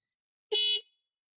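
A single loud blast from a Pidzoom FH90 electric finger horn, about 112.9 decibels, bright and sustained for about a quarter second, then cutting off into silence.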